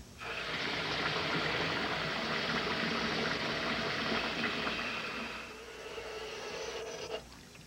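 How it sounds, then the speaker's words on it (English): Cold tap water gushes steadily over freshly boiled asparagus pieces, a continuous splashing rush that softens near the end before a brief clatter. "the easiest way to stop the cooking is to run it under cold water"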